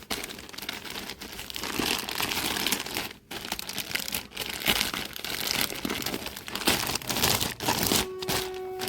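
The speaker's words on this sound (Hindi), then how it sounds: "किधर से खोलूँ? इधर से खोलता हूँ इसको।" A plastic-wrapped package holding a men's waterproof blue work raincoat is torn open, giving loud, continuous close-up crinkling and rustling of plastic with brief pauses and a short tonal bump near the end.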